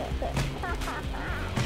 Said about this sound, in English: this chicken is like crazy